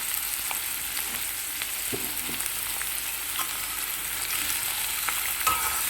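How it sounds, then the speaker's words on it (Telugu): Sliced onions fry in oil with a cinnamon stick in a pan on the stove for a chicken curry. A loud, steady sizzle with faint stirring runs throughout, and no one speaks. "ఇప్పుడు స్టవ్ మీద సరిపడా నూనె వేసుకుని కాగాక ఒక దాల్ని చెక్క వేయండి తర్వాత ఉల్లిపాయలు ఇలా కడగా కోసుకొని వేసుకుని వేసుకోవాలన్నమాట"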